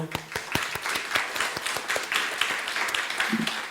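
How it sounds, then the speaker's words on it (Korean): A church congregation at its annual joint meeting claps in encouragement for ministry team leaders, a short burst of scattered individual claps up close, with voices mixed in. "우리 박수로 한번 좀 격려해 줬으면 좋겠어요"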